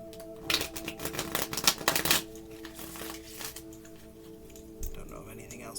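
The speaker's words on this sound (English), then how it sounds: "Go ahead and shuffle the deck and see what messages we have for tonight." A deck of cards shuffled repeatedly for a card reading, giving a run of close, dense riffling and rustling bursts over roughly two seconds before fading into quieter handling noise and background hum.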